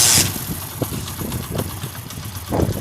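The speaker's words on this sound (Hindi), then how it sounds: "दोस्तों अब गाड़ी स्टार्ट करते हैं," A 70cc motorcycle engine, just after a tappet adjustment, runs at idle close by with a steady low putter and soft periodic pulses.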